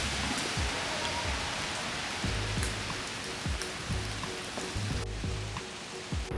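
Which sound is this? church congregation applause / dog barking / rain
rain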